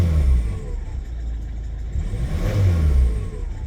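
A Volvo C30 diesel engine revving up from idle, close and fairly loud, with two rising swells in engine pitch and a slightly uneven rumble, and no voices over it.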